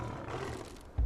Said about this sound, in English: There's a tiger behind me.